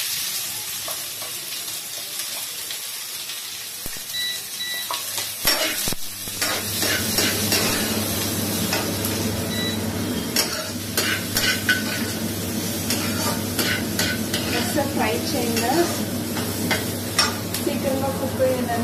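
Onion and other ingredients fry in hot oil in a pan, a continuous loud sizzle with frequent scraping and clinking of a spatula stirring throughout, after a quieter start.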